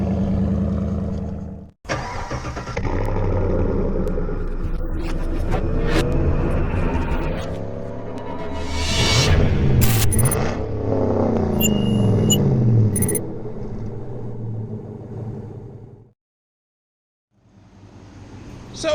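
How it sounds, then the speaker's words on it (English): A truck engine cold-starts on E85 corn ethanol fuel, cranking and catching after a brief pause, then settles into a loud, steady idle with a swell of revving before cutting off near the end. "why not start out this video with a cold start?"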